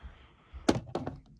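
A Lego roof piece pressed back onto a built island model, a soft plastic thunk followed by two lighter clicks, close and brief.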